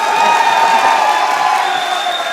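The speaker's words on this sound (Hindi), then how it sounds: "अब बजा लो तालियां," Loud studio audience at a comedy talk show clapping and cheering, with whoops and shouts over sustained applause that eases slightly toward the end.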